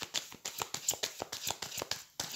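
A deck of tarot cards is handled during a reading, giving a quick run of crisp, rhythmic card flicks and slaps heard up close.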